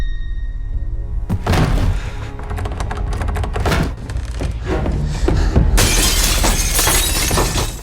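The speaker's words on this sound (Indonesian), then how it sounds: "salah satu dari mereka justru memecahkan kaca jendela dan mencoba membuka pintu yang terkunci" Window glass is smashed in a loud, close burst of shattering crashes and heavy thuds over a low, constant rumble, with a second bright spray of breaking glass near the end.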